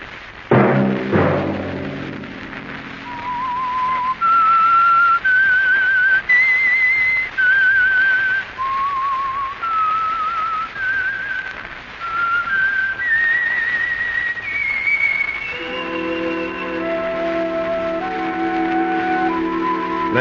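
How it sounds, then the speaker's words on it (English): A clear, melodic whistled tune of sustained notes stepping up and down, loud and close, ending as a musical accompaniment swells in. "Let that whistle be your signal"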